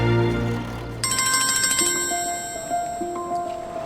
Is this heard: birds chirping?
no